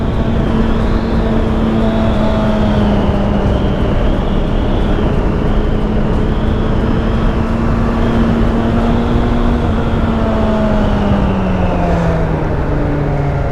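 A Suzuki Bandit 600 motorcycle ridden at full throttle, steady loud engine drone with a sustained tone that slowly rises and falls, heavy wind roar throughout, no talk.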